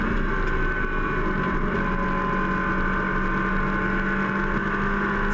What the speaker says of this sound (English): The rear engine 911s braking for Southern Loop